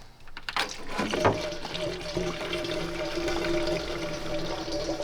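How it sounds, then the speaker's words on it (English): Oil gushes out of the plastic dry sump plug on a C8 Corvette Z06, a steady splashing pour with a faint ringing tone, running continuously at moderate volume. "the dry sump plastic plug, this is where the majority of your fluid's going to be, so be prepared. It's going to come out pretty wild."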